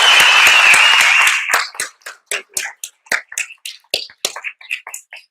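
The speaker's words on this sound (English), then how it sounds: "If we could do one really loud applause for the wait staff." A breakfast audience at a hotel event applauds the wait staff, dense clapping for about a second and a half before thinning to scattered individual claps that fade out.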